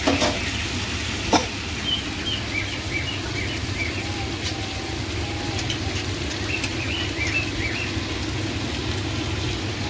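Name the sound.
stirring tomatoes and salt frying in oil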